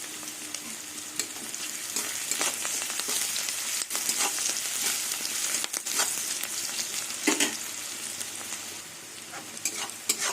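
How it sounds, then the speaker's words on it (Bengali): Onions sizzle and crackle steadily in a pan as they fry for dal posto, with occasional spoon scrapes and stirring knocks cutting through the close, continuous hiss; no voices are heard. "দেখুন পেঁয়াজ হাফ ভাজা হয়ে গেছে"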